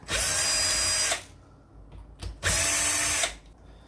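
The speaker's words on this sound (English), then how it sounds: "I'm going to have to remove these screws and see if I could get it to fit that way." Small electric screwdriver removing screws from the wheels of an Axial SCX24 RC car, fitted with INJORA 1.0 beadlock wheels: two loud, close whirring bursts of about a second each, with a quiet pause between them.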